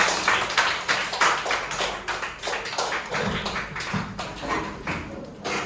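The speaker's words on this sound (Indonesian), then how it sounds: "beri tepuk tangan buat teman-teman" Students in a classroom clap for classmates after a group presentation, a run of uneven, close hand claps with pronounced individual strikes and occasional low thumps, moderately loud.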